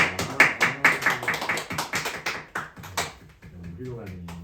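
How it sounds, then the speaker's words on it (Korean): Audience clapping after a correct answer at a Korean church reading session, a burst of sharp, uneven claps that thins out toward the end while a voice speaks over it. "크게 박수 드리겠습니다."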